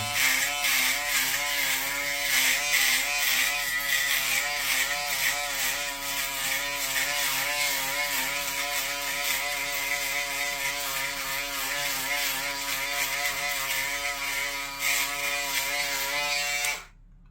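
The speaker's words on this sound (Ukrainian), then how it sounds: "для цього йде на допомогу нам шейвер" Steady, loud electric shaver buzz running continuously for about seventeen seconds with a slightly wavering tone, cutting off abruptly at the end.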